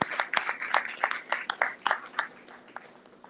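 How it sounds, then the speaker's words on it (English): An audience at an event at the Island SPACE Caribbean Museum breaks into applause for a Caribbean chorale, giving a moderately loud wash of clapping with distinct claps that gradually thin out. "Let's give them a big round of applause."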